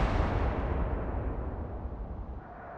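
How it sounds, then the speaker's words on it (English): A naval artillery shell explodes in the warship video game Atlantic Fleet, a dense, deep rumbling blast that fades slowly over about three seconds with no talk over it. "big explosion as well"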